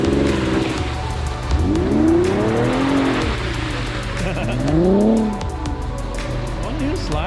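An Infiniti Q50 Sport with AWD slides and spins donuts on snow, its engine revving in repeated rising and falling surges with tire noise, close and loud, while people talk over it.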